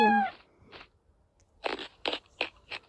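Cartoon cat sounds from the video game Toca World: a short meow followed by a run of crisp crunching chewing bites, close and clean with no talking.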